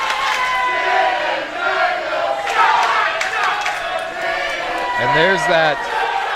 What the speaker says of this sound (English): classic Sokol Auditorium crowd